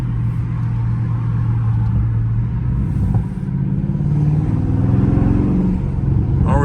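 Loud Dodge Charger Scat Pack V8 rumbling steadily on a street drive, its exhaust droning throughout, briefly dipping then swelling again as the engine revs and pulls.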